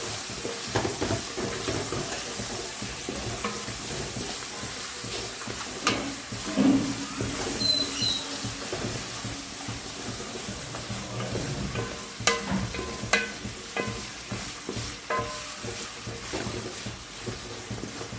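Half a kilo of quartered shallots frying in a pan for Kerala-style chicken biryani, a low continuous sizzle with intermittent scraping and clinking of a spoon as they are stirred, close up and without voices.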